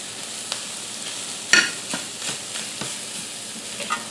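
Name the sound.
stirring loose chicken cheesesteak meat with toasting seasonings in pan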